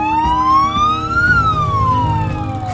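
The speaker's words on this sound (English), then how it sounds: "Siren, pretty loud. It makes the sirens and the honking." A police car siren wails loud and close, its pitch sweeping up then down in one long continuous cycle over a low running engine, with no talk.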